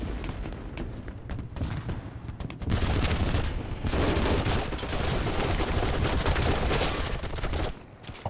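Dense, continuous gunfire from the Battlebit video game, with rapid automatic bursts and heavy booming shots packed together into a loud, sustained firefight after a brief quieter opening.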